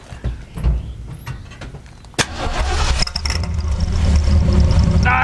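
Ford F100 pickup fitted with turbo whistles, the engine starting with a sharp crank and catch, then revving up with a rising whine over the motor, close and loud.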